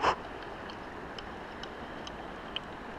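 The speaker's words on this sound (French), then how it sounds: "C'est le son de la soie qui revient." A fly reel brings line back in while playing a rainbow trout, giving faint, soft ticking clicks at a slow irregular rate over quiet outdoor water ambience.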